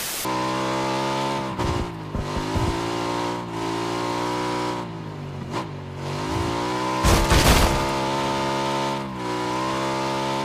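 A loud, steady engine drone with shifting harmonics from a car in PUBG, revving and holding pitch, with a few brief bursts and noisy crunches partway through.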